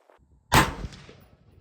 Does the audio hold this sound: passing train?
no